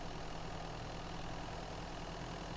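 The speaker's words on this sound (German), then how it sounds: "So, warte mal, der Motor läuft." Car engine idling in the survival video game Mist Survival, a faint, steady low hum with a constant rumble and no change in pitch, heard alone without speech.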